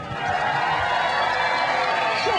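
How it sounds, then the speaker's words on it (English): Studio audience at a robot combat show semi-final cheering, shouting and applauding in a dense, steady roar that fills the whole stretch, with voices whooping in the crowd. "Ladies and gentlemen, give them a round of applause"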